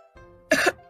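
A character revived from drowning gives a sharp, close cough as he spits out water, followed a moment later by the start of a second cough.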